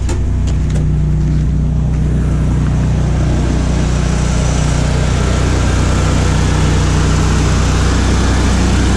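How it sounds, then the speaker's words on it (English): A backup generator at an off-grid home cranks and catches, then settles into a steady, loud droning rumble that runs continuously without any talking. "you can hear the generator firing up right now"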